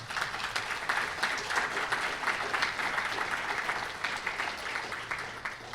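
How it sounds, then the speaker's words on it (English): A large audience claps in a steady, dense round of applause for firefighters at a Canadian tribute event, sustained and fairly even for about six seconds with no voices standing out. "Round of applause, please."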